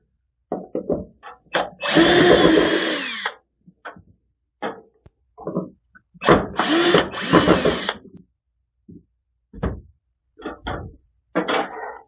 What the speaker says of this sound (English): So now we can start removing these ballasts. There's just 2 screws on either end.